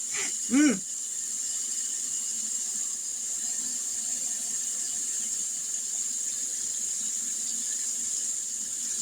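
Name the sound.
water running into a cooking pot of beans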